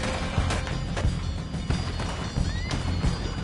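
Horses in Red Dead Redemption II neigh loudly and clip-clop, with sharp whinnies and repeated hoof strikes close by, plus a few thuds and no talk.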